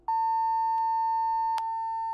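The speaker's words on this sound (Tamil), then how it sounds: "அது மட்டும் இல்லாம ஒரு நீண்ட பீப் சவுண்டும் கேட்கும்." An electronic voting machine gives one long, steady tone after a vote is cast, loud and close, holding for about two seconds with faint clicks on top.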